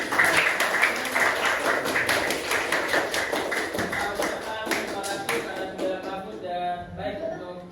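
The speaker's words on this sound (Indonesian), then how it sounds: "Kita kasih aplaus dulu." Audience applause at a group performance event, dense hand clapping that is loud at first and gradually thins into scattered claps, with a few voices underneath.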